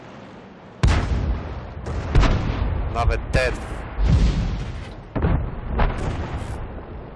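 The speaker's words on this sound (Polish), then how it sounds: "Chodzi mi o sam dźwięk wystrzału." Tank cannon shots from the game World of Tanks boom loudly several times in succession, each a sharp heavy blast with a rumbling tail, and someone speaks briefly between them.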